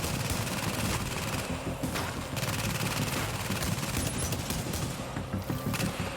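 Sustained rapid gunfire from an MDR rifle in The Division, dense and continuous bursts filling the whole stretch, loud and close with booming low end and no talking.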